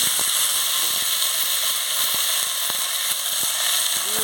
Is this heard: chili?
yes